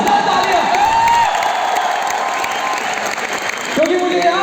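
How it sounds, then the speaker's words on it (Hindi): Audience at a Vestige event applauding, a dense steady wash of clapping with crowd noise and a few sustained tonal whistles or cheers over it, loud and close throughout. "एक बार जोरदार तालियां."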